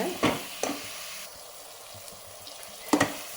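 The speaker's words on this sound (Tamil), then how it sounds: "இது வெங்காயம் நல்லா வதங்கட்டுங்க." Onions sautéing in a pan for chicken biryani give a low, quiet sizzle broken by a few short, sharp stirring scrapes at the start and near the end.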